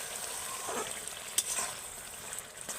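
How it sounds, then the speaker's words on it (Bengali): Amla (Indian gooseberry) paste simmers in oil while it is stirred, making a soft, continuous bubbling sizzle with faint scraping touches and no voices. "এবার শুধু আমি একটু ফুটিয়ে নেব তেলের সাথে আমলকির এই যে পেস্টটা"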